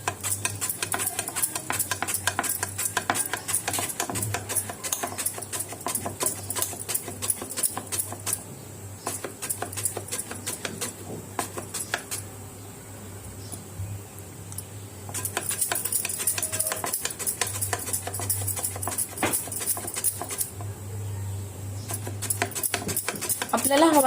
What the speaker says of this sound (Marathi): तर आता आपण केळी खिसून घेऊया व्यवस्थित